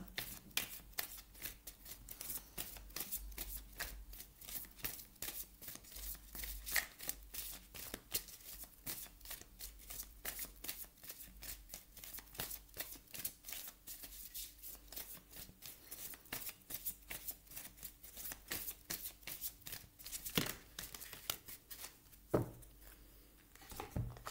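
Oracle cards shuffled by hand during a tarot-style reading, a steady run of crisp riffling and slapping bursts that repeat for the whole stretch, fairly close but soft, with no talking over them.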